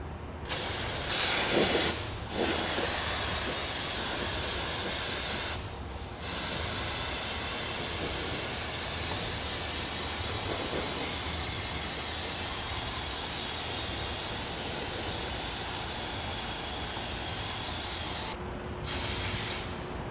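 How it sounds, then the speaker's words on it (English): A steady, loud aerosol spray of brake parts cleaner hissing almost continuously inside a car's clutch bell housing, broken by a few brief pauses between bursts. "Using brake parts cleaner or another type of solvent, you want to liberally spray the interior of the bell housing"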